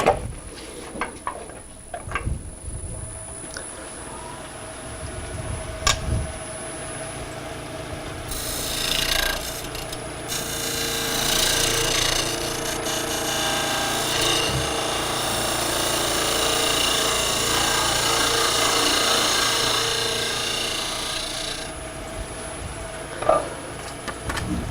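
A wood lathe trues up the face of a miniature bird house. After a few scattered knocks and clicks, a sustained rough cutting and scraping builds near the middle and runs loud and steady for over ten seconds, then stops for a final sharp tap.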